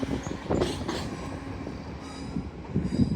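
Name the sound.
East Midlands Railway class 175 train departing Doncaster station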